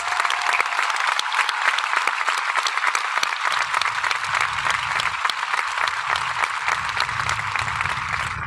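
Audience at a high school graduation ceremony applauds military veterans and active service members standing among them, a loud, dense, steady wash of clapping sustained throughout with no break.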